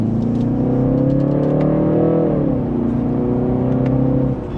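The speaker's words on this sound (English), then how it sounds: "And that's just a slight acceleration." A 2026 BMW 330i in sport mode accelerates in second gear, its engine note rising steadily and loud from inside the cabin, dipping briefly at a shift point before settling into a steady hum.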